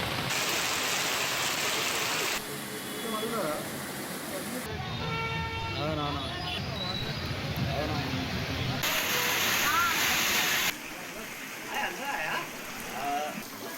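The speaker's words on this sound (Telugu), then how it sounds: "హైదరాబాద్ లో కుండపోత వర్షం కురిసింది." Heavy rain pours down in Hyderabad, steady and hissing as it drums on surfaces and streets, cut into short sections with voices talking over parts of it.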